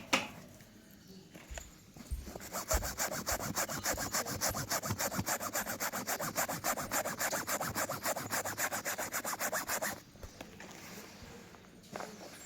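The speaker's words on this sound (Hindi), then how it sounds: "SCI एक्सल बॉटल के टोक से रगड़ देना है" An oil and grease stain on fabric is scrubbed with a detergent bottle cap: close, rapid, rhythmic rubbing strokes keep going for several seconds and then stop.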